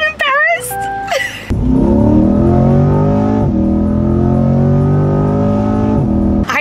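A Chevrolet Corvette engine starts with a burst and then revs in strong, rising harmonic sweeps. The sound is loud and close, with voices talking briefly at the start.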